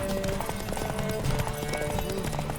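Steady clip-clop of a horse's hooves in The Witcher 3, quick repeated beats at close range over a dense game background.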